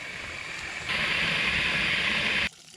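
Water rushes into an RV's fresh water tank, a steady hissing flow that swells louder partway through, holds evenly, then cuts off abruptly near the end.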